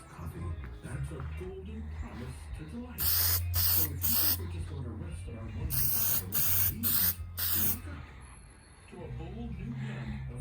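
Spray paint hisses in short bursts onto the valve covers of a 1986 Buick Grand National engine, close and loud in two clusters of quick blasts, with someone talking in the background.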